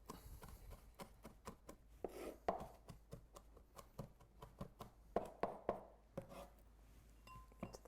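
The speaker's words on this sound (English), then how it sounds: "Chop, chop, chop." Zucchini chopped with a chef's knife on a board, a steady series of crisp, close knife strikes in an uneven rhythm of roughly two to three per second, heard alone with no talking.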